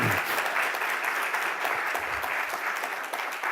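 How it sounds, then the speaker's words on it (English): Sustained, dense applause from an audience at a college celebration and ribbon cutting, steady and fairly loud throughout with no speech over it. "So let's give her a round of applause as well."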